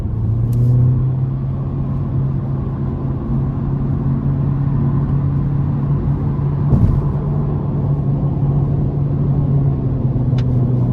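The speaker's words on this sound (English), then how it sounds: "Let's give it some throttle here." A 2023 Honda Civic Hatchback Sport with the non-turbo 2.0-litre four-cylinder accelerates under throttle, giving a steady droning engine note with rising tone, heard from inside the cabin with road rumble and no talking.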